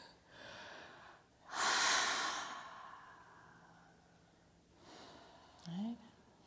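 Deep breathing during a yoga deep hip release, with a long heavy exhale sighing out in the middle, then a few softer breaths and a short snort-like breath at the end, close and quiet against a still room.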